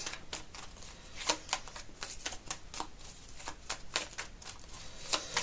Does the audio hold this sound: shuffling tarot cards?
yes